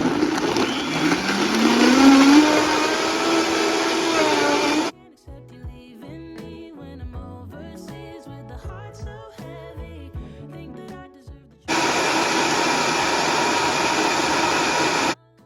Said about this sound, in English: Just throw the stuff in there and blend it.